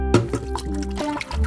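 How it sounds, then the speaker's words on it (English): Household water poured into a blender jar, a short close trickling splash running steadily for about a second and a half with no talk. "You're going to put it in your blender and use a little bit of household water"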